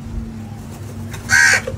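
A single short caw from a crow being fed in the Maldives, fairly close, rising briefly out of a quiet background hum with no talking.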